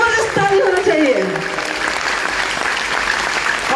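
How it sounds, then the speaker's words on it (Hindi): An audience at a gathering in Uttar Pradesh breaks into loud, dense applause right after a speaker's voice, with the crowd's clapping sustained to the end. "जबरदस्त ताली होना चाहिए।"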